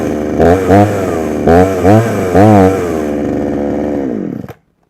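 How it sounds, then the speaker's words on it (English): A small choke-equipped engine started in very cold weather runs roughly with several surging rises in pitch, sounding close and loud, before it abruptly cuts out. "It is really cold, that's why you should never rev a cold engine."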